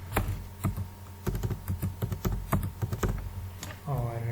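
Numbers typed on a computer keyboard: quick, irregular clicking keystrokes close to the microphone, ending in a brief tonal sound.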